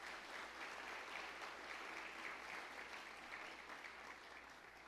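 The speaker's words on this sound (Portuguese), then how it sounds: "Aplauda mais uma vez ao Senhor" A church congregation applauds during a family worship service, a steady, even wash of many hands clapping at moderate volume that holds throughout without talk.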